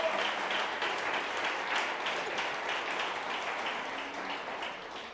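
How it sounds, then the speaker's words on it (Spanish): Church congregation applauding together, a steady wash of many hands clapping at moderate level throughout, fading slightly toward the end. "Ahora sí, denle un aplauso al Señor, porque Él ha pagado el precio."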